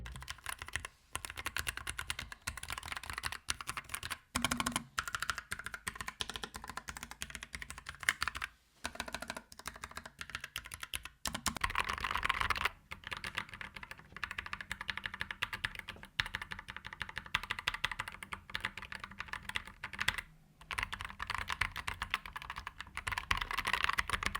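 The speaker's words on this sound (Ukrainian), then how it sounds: "давайте нарешті послухаємо тайпінг цієї клавіатури." Steady, continuous typing on a Keychron K3 Max low-profile mechanical keyboard, soft muted clacks at a quick even pace, close up with brief pauses.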